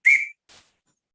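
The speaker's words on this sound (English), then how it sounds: "sometimes they blow the whistle calling for everybody to come" A single sharp whistle blast for attention sounds close and loud for a third of a second, followed by a brief faint breathy puff, then silence.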